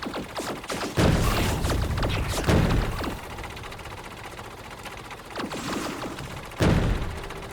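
Explosive artillery shells fire and burst in Factorio, four heavy booming impacts spaced a few seconds apart, with quieter mechanical rumble and clatter between them.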